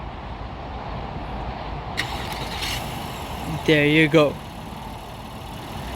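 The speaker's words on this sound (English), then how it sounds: "to remote engine start the Honda Pilot, all you need to do is press the lock button twice and hold down on the engine start and stop button" A 2022 Honda Pilot started by remote start turns over and settles into a quiet, low idle, followed by a short pair of electronic chimes, while a person speaks briefly nearby.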